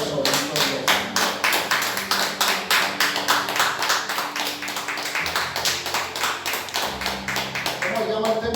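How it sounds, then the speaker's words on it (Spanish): A church congregation claps in steady rhythmic unison during a Spanish-language worship service, loud sharp claps repeating continuously over music and singing voices. "Te damos la bienvenida con un fuerte aplauso"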